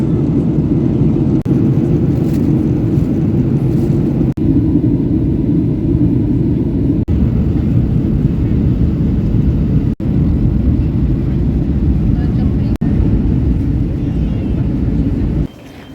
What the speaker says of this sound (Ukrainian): Ми летимо в літаку